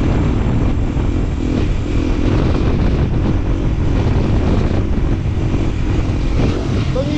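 A motorcycle engine runs steadily and loudly during wheelie practice, its drone blended with heavy wind rush, holding an even tone throughout without distinct revs or pauses.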